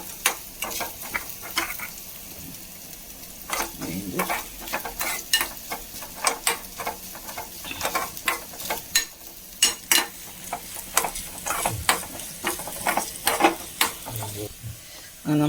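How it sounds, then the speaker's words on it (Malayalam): Coconut pieces frying in ghee with a soft continuous sizzle, punctuated by sharp scrapes and taps of a spatula stirring the pan. "ചട്ടിയിൽ നെയ്യ് ഒഴിച്ചിട്ടുണ്ട് അതിലേക്ക് കുറച്ച് നാളികേരം ഒരു ഒരു മുറിയുടെ പകുതി അരമുറിയോളം ഏകദേശം ഒന്ന് വറുത്തെടുക്കട്ടെ"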